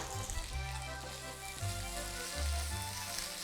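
Pesto sizzling hard in a hot pan with homemade gnocchi, a continuous crackling fry heard close up, with steady low hum underneath and no voices.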